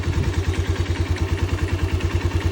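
A Musstang Region 150 motorcycle with 9,945 on the odometer idles close by, its single-cylinder engine thumping in a fast, even, steady rhythm with a light mechanical clatter and no talk.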